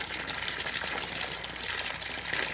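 Water drains out of a steam boiler in a steady, hissing gush with a trickling texture, constant and fairly close, with no talking.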